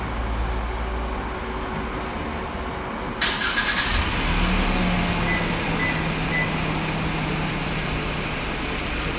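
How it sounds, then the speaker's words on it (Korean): A Porter 2 LPG truck starts by remote: a click and a short cranking burst, then the engine settles into a steady, loud idle hum close by, with no voices. "원격 시동은 잠긴 버튼 1초 간격 두 번입니다"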